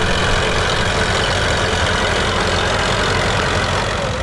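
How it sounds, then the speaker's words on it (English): A heavy old petrol-paraffin engine of a Fordson E27N County crawler tractor idles and chugs steadily at close range at a vintage tractor pull, a dense low rumble that never lets up. "This time it's a petrol Kero, an E27N Fordson County."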